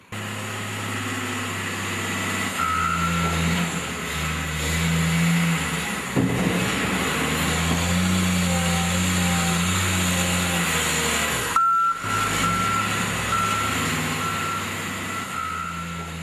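A salt truck being loaded, with a steady engine drone and repeated high reversing beeps from loading machinery, sustained and fairly loud throughout with a brief drop near the end.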